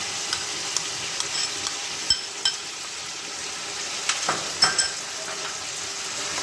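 Chicken sizzles in a pan with onions and ginger-garlic paste, a steady close hiss broken by sharp clicks and scrapes of a spatula stirring.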